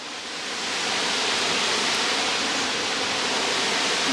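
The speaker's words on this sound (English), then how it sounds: "It's a very nice waterfall, but you're not close enough to it like you are with Waterfall, so you can't feel the power of it." A waterfall at Divach Falls in the Scottish Highlands, heard from a distance, rises into a loud, steady, broadband rush of falling water with no voices.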